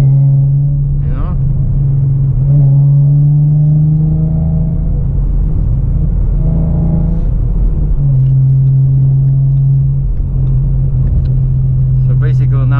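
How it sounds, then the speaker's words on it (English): A 2017 Ford Mustang's engine rumbles loud and close through its exhaust, its pitch rising and settling with throttle changes while someone talks over it. "now my RPM went up, so the car has no lag whatsoever when you push gas"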